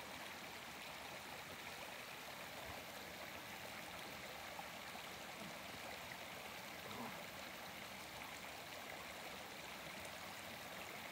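A river stream flows steadily, a soft continuous rushing and gurgling of water, faint and even throughout with no other sounds.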